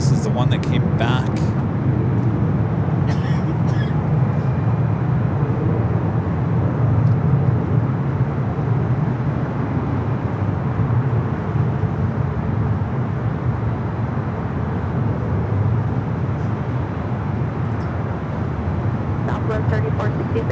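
A Boeing 787 Dreamliner airliner at LAX makes a loud, continuous broad roar that persists for the whole stretch, with people talking over it.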